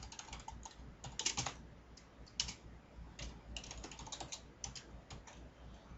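Close, quiet typing on a computer keyboard during CSS web design work, with rapid bursts of key clicks, brief pauses between them and no talk.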